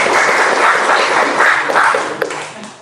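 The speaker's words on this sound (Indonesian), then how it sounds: "Tepuk tangannya dong." Indoor audience of teachers claps together at a training session, a dense, close patter that holds steady and then tapers off into a few scattered claps.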